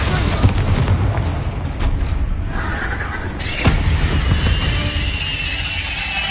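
A Confringo fire-blast spell cast in the Hogwarts Legacy video game bursts loud and sharp amid a busy, dense mix of combat effects and a low rumble, with a crackling tail trailing off.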